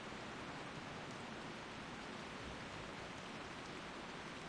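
Heavy rain falls steadily in World of Warcraft, a dense, even wash of downpour that holds at constant loudness throughout with no voices over it.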